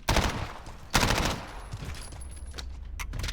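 Video game gunfire rings out as the player swaps weapons in a YY strafe: loud broadband bursts of shots near the start and about a second in, then a denser rattle of smaller shots.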